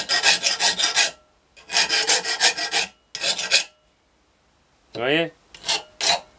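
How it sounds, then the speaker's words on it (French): A round grinding stone worked by hand rasps burrs off a sheet-metal plate for a Rohm pistol in three close, loud scraping bursts, followed by a short spoken remark and a few final strokes. "Après, j'enlève les bavures derrière, comme ça."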